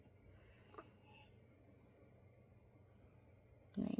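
Feeder crickets in a pet enclosure chirp in a steady, rhythmic series of quick pulses, faint and fairly close, with a brief louder rustle near the end.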